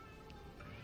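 Stray cat meowing in the video game Astral Chain, a couple of faint, brief meows over steady game background noise.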